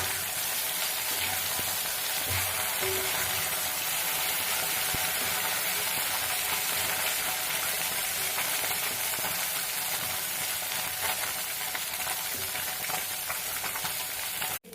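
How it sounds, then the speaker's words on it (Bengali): Boroli fish fry in hot oil with a steady, close sizzle and crackle that holds evenly throughout, with no talking. "এগুলোকে ভেজে নেব। মাছগুলোকে উল্টিয়ে দেব।"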